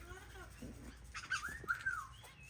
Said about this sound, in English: You can hear all the other birds going crazy.